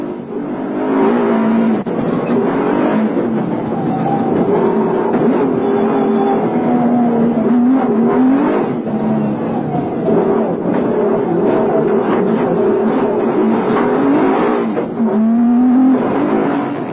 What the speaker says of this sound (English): Enjoy the ride on board the championship-winning, proudly South African Nissan Hardbody.